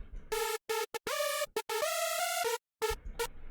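A single sawtooth oscillator with lighter detune plays a hardstyle supersaw lead line alone, bright and buzzy, cutting between clipped stabs and held notes that slide in pitch, dry and upfront.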